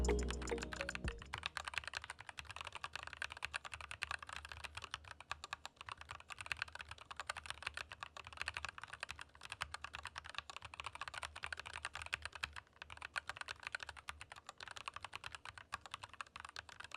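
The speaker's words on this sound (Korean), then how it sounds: "타이핑할 때 느낌을 제가 좀 이렇게 보여드리고 싶은데" Typing on a Dygma Defy ergonomic wireless keyboard produces a continuous, fairly quiet stream of rapid key clicks and clacks that runs unbroken for about seventeen seconds, with no talking.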